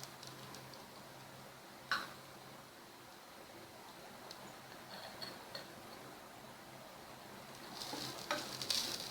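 Grated coconut fries in ghee with a faint, steady sizzle, broken by occasional light clicks and stirring scrapes that grow a little busier toward the end.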